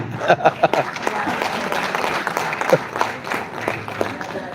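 An audience applauds at an app launch event, broadband clapping that runs steadily through the clip at moderate loudness, with a few sharper bursts and a faint voice mixed in.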